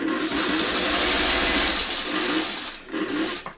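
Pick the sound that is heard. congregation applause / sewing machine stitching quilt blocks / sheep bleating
sewing machine stitching quilt blocks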